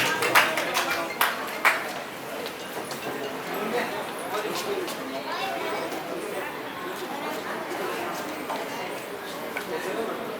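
Audience applause at the Rajasthan Karmveer Award 2024 ceremony: a few sharp, loud claps at first, then dense, even clapping from a large room that continues steadily for about ten seconds.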